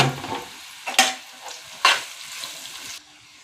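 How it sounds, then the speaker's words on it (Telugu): Dry red chillies fry in hot oil with a soft, steady sizzle, broken by a couple of sharp spatters and stirring scrapes, close up and fairly quiet, with no talk. "రెండు ఎండుమిరపకాయలు అన్నీ వేగిపోయినాయి."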